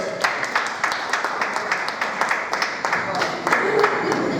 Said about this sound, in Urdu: چلیے تالیوں سے نوازیں۔